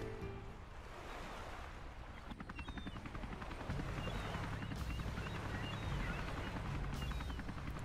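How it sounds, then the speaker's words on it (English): A helicopter flies in the video game Final Fantasy VII, its steady rotor chop and engine roar loud and continuous, over a wash of wind-like noise, with no one talking. "That's, by the way, that's a very unstable helicopter."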